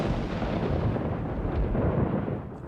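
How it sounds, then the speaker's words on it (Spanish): A thunderstorm rumbles with a deep, sustained roll of thunder, heavy and close, that eases slightly near the end. "En la noche de la boda hubo una tormenta agorera"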